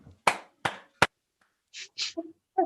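Three sharp, crisp hand claps from a recorded song, evenly spaced and standing alone, followed by softer brief sounds that may be voices.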